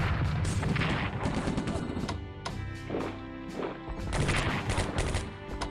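Artillery fire in the World War II strategy game Strategic Command WWII: a series of booming, thumping shots and blasts arriving in irregular bursts, moderately loud with no speech.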